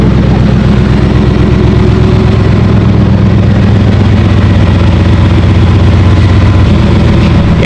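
A car engine idles steadily and close by, a low even rumble that holds throughout, with no talking. Its owner likens it to a Buick.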